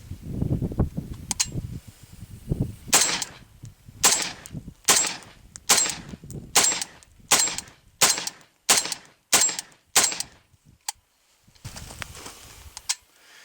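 An AK-74 rifle with a bare muzzle fires a steady string of about ten loud, sharp single shots at close range, roughly one per second, each with a short decaying echo, after some low rumbling at the start.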